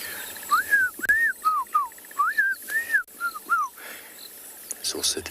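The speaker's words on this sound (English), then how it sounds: "Here a black crown chagra." A black-crowned tchagra at Tswalu in the Kalahari gives a run of clear, whistled, slurred notes in quick succession, fairly close and distinct over a quiet outdoor background.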